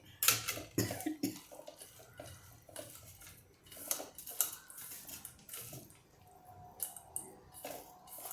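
A metal spoon scrapes and clinks against a bowl while tamarind chutney is added to Nagpur-style bhel, a street-food snack, with scattered light taps and rattles, fairly faint and close, and no talk.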